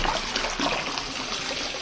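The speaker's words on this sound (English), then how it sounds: "Some water's getting out all over my leg. Getting a little crazy with this filter." Water spills and splashes from a running aquarium filter in a red tail catfish tank, a close, steady gushing rush with no voices.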